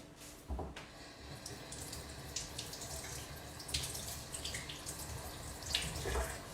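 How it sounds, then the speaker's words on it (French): A herring is rinsed under running kitchen tap water, giving a close, steady splashing stream with irregular spatters and drips as the fish is handled. "Donc moi, sur les deux harengs, j'en prends un. Je vais le rincer à l'eau."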